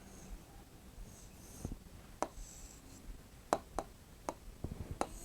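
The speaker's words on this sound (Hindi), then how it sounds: "आइए ऐनक लिखते हैं।" A pen writing an Urdu word on paper, faint close scratching with a few sharp taps and strokes spaced irregularly, quiet and alone.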